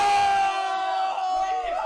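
A stadium crowd roars in celebration after a hat-trick goal, a loud, sustained wall of cheering with a steady, tone-like ring running through it for the whole two seconds.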